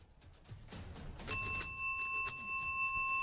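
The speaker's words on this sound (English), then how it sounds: "He rings the bell a few times to show James that it works" Hand bell rung a few times in a dim, noisy space, bright metallic rings starting after a second of low rumble and lingering with a sustained shimmering tone.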